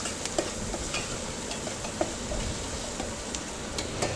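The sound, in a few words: ginger garlic paste frying in a pan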